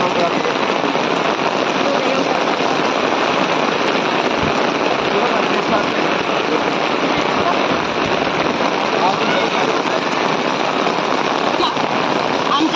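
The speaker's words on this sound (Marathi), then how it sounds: "पावसामुळे आवाज यायला मी मोठ्या बोलते" First monsoon rain pours down hard, a loud, dense, unbroken hiss of drops hitting surfaces close by that holds steady throughout.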